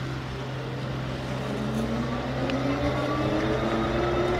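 Unrestricted Lankeleisi RX800 electric bike pulling away on throttle alone with a fully charged battery, a steady motor whine rising in pitch as speed climbs, heard alone with wind noise and no talk.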